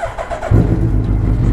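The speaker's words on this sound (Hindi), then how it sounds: "तो चलिए यार बाइक को देते हैं कोल्ड स्टार्ट" Suzuki Hayabusa motorcycle cold-started in damp, rainy weather: a brief quiet lead-in, then the engine catches and settles into a loud, steady, close low rumble with no talk over it.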